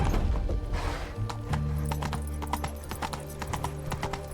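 Roach the horse galloping in The Witcher 3, rapid hoofbeats drumming steadily over a low rumbling game soundscape, with a brief breathy snort at the start.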